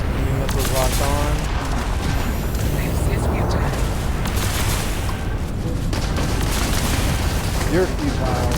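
Dense, continuous spaceship gunfire and booming blasts from space combat in Starfield, loud and sustained throughout, with a voice talking over parts of it.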